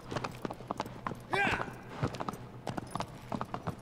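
Horse hooves clip-clop at a steady gallop in Shadow of the Colossus on PS4, a rhythmic series of clear thuds with a brief whinny, while someone talks in Spanish over the game sound.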